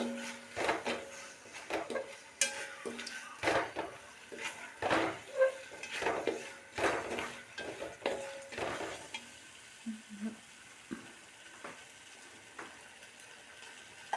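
Powdered grated coconut is stirred into a thickened mixture in a pan, with close, irregular scrapes and knocks of a spoon over a soft sizzle that fades toward the end, no talking.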